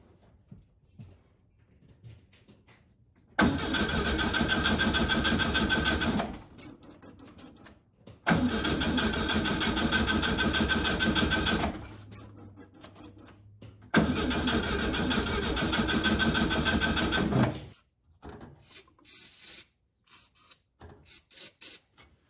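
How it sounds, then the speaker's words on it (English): A 1956 VW Beetle engine with a weak battery and a suspected stuck carburetor needle cranks over in three long, steady churning bursts, close and loud, with short pauses between and no clear catch. "I don't want to crank it forever."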